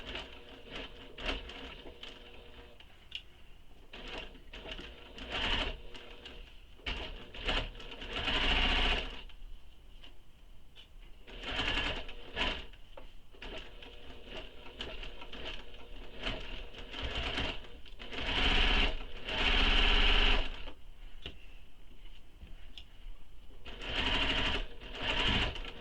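A sewing machine stitches a handbag together, running in repeated bursts of rapid mechanical whirring with short pauses between passes, close and fairly loud.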